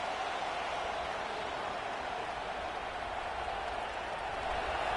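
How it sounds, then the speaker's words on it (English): A home football stadium crowd roars steadily throughout, a dense, unbroken wall of noise from thousands of fans as the defense keeps the opposing offense pinned deep in its own end. "The roar of the crowd trying to fuel this defense to keep them pinned in their own end"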